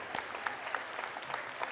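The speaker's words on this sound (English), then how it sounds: "Give yourselves a round of applause for being so patient" Audience applause at a youth conference, a steady patter of many hands clapping that fills the whole short moment at moderate level, with no voices over it.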